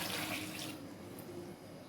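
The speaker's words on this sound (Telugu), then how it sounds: "ఈ గ్లాస్ నీళ్ళు పోసుకోవాలి" A glass of water poured into a cooking pan while making tomato sauce, a steady rushing splash that fades slightly after the first moment and continues alone.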